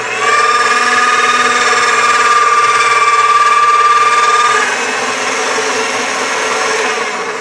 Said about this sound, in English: I'm going to roll this again through the thickest setting on my pasta machine this way.